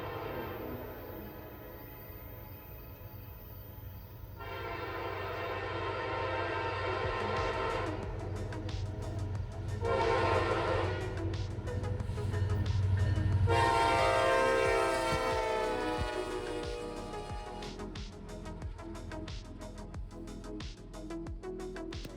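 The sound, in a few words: Norfolk Southern heritage locomotive train passing, horn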